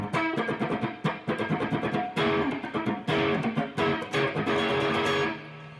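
Rhythmic strummed guitar with sharp percussive scratch strokes between chords, a quick driving pattern that stops abruptly near the end.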